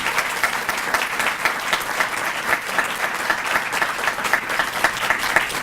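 An audience claps steadily and enthusiastically for several seconds, a dense, even wash of applause with no voices standing out.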